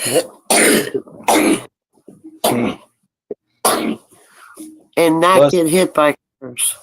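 A person sneezes and coughs in a few short, sharp bursts close by, mixed in with people chatting.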